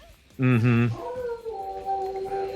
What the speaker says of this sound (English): That's my dog howling